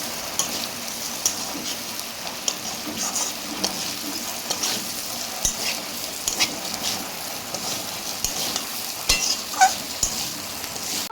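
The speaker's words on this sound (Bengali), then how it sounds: "আমি সুন্দর করে মিক্স করে নেবো" Potatoes tossed with poppy seeds in a frying pan give a steady close sizzle throughout, broken by scraping stirs and occasional spatula taps against the pan, with no voices.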